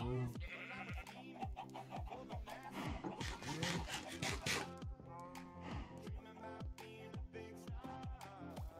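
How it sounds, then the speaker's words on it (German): Sheep bleating in the video game Tiny Aura 5, repeated bleats in quick succession over game sounds and background music, with a voice talking. "Ich habe ja nur ein Schaf."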